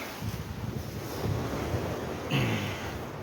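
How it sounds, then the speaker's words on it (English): Rough sea waves roll in at a rocky headland, a broad, continuous wash of surf with wind buffeting the microphone and a slightly louder surge near the end. "There's that waves coming in through the headland. So it's still pretty rough."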